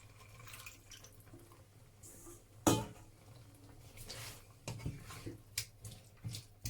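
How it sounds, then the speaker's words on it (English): Water is added to a pot of white beans on the stove, heard as faint, quiet splashing and trickling mixed with a few light clinks of the pot and utensils, with no talking. "Then we're gonna add in a little bit of water"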